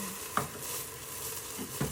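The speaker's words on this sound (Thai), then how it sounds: "ใส่กะทิลงไปค่ะทุกคน" Coconut milk sizzles in a hot pot while green chicken curry is being made, a soft, steady hiss with a couple of faint stirring knocks.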